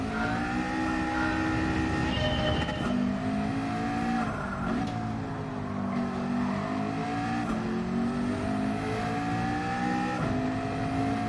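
Racing car engine in Gran Turismo 7, comparing a McLaren and a Porsche in online daily races, drones loudly and continuously with rising and falling revs through corners, with no talking.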